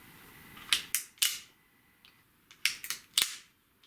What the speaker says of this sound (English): You push it again all the way to the top, and the knife flips over and becomes a scraper.